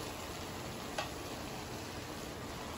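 Tofu dropped into a pot of boiling vegetable broth: a steady close bubbling hiss with one brief soft plop partway through, no talking.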